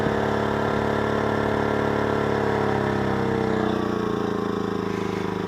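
A generator runs steadily while recharging a Zendure SuperBase Pro 2000 power station, giving a loud, constant droning hum with a slight shift in pitch partway through and no talking.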